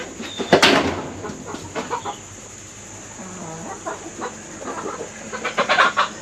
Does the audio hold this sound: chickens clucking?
yes